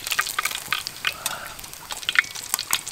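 Battered fritters being lifted out of hot frying oil in a home kitchen, with a steady close sizzle and crackle broken by scraping clinks of a utensil in the pan.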